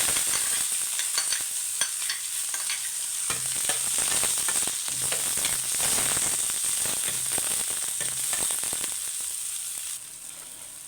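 Tomato, onion and green chillies sauté in a pan with a continuous, crackling sizzle. It stays close and even, then eases slightly near the end.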